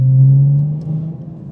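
A BMW with a B58 engine and a failed turbo runs close by, giving a loud low drone that swells briefly and then eases off within a second and a half.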